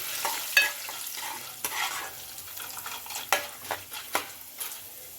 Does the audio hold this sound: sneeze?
no